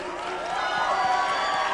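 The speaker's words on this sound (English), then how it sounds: "can you give a big round of applause to your new president" Conference audience cheering and applauding for a newly introduced president, a steady crowd roar with scattered whoops that sustains throughout.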